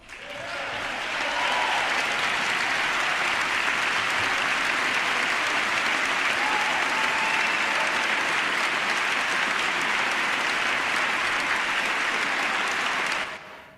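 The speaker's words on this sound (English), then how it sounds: "the reason there was all that applause from the Democrats in the House" Sustained applause from Democratic members of the House during a presidential speech, a dense, even roar of many hands clapping that holds steady for over ten seconds before cutting off.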